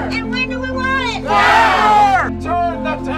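A crowd of concerned citizens and activists outside Detroit's municipal building shouts in unison, a loud rising collective yell with scattered voices around it, close and raucous.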